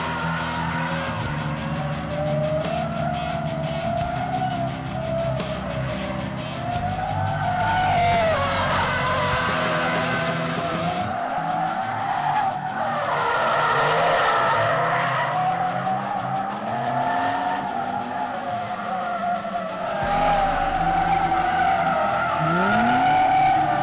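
Drift cars at a drifting event slide through repeated long tire squeals and skids over roaring, revving engines, with the squeals rising and falling as each car passes, some near and loud, others farther off.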